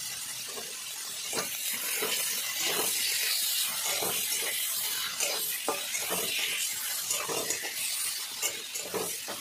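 Chicken pieces and green chilies sizzle and hiss in a hot pan while a spoon scrapes and stirs them steadily, with repeated clinks against the metal throughout and no voices.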